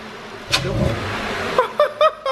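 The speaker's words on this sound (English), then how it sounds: "What do you got, a V8 in there" A car with a V8 engine revs in short, loud bursts close by: one throaty blip, then a quick series of four sharp revs, with a brief exclamation before them.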